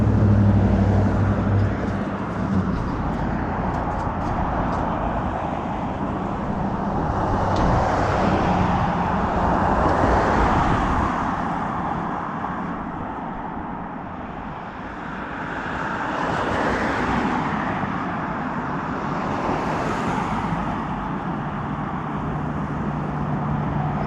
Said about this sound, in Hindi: बीच में इकल्ली गाड़ियाँ आ रही है तो कितना शोर मचा रही है।